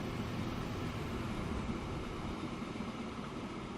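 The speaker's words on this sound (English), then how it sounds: "How's this train doing? Slowly chugging along, 47 miles an hour." A train in the Transport Fever video game runs along the tracks at about 47 miles per hour, a steady, continuous rumble with no voices.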